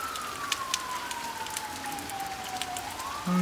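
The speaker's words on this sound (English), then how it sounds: "the police are driving around with their sirens" A police car siren wails during a tornado warning, a single drawn-out tone sliding slowly downward at moderate distance over a soft wash of rain, with a louder low sound breaking in at the very end.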